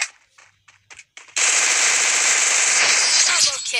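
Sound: gunshots in the video game Free Fire

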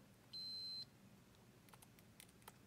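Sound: multimeter continuity buzzer beeping

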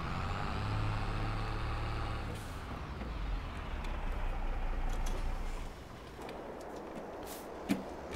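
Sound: tractor driving in video game Landwirtschafts-Simulator 22

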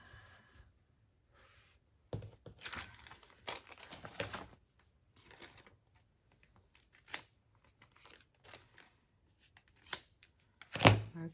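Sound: folding paper around an envelope pocket

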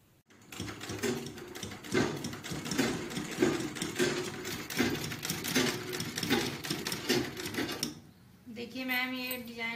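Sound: sewing machine stitching piping on a blouse

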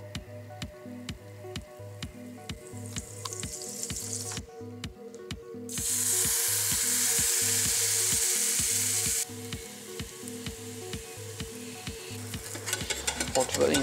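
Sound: protein pancakes with cheese and ham frying in a pan

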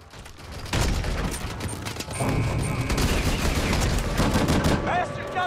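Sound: gunfire in Advanced Warfare video game

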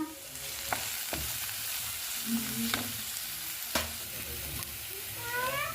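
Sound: sautéing cabbage and beans with salt, pepper, turmeric

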